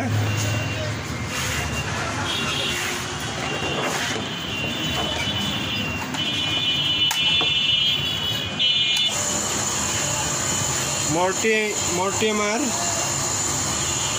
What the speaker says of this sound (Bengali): মোটরটি রাইট সাইডেই ঘুরলো এবং স্বাভাবিক সাউন্ডে রয়েছে